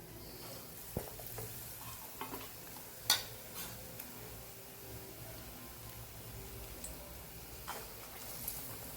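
Raw banana fritters, battered slices dropped into hot oil, frying with a quiet, steady sizzle and a few faint clicks and taps of a utensil nearby.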